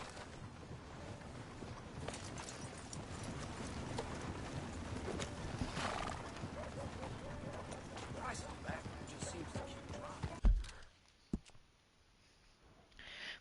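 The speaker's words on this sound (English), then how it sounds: "This is my horse." A horse in the video game Red Dead Redemption 2 clip-clops steadily under a constant wash of wind and ambient noise, then a sharp thump near the end before the hooves drop away to near quiet.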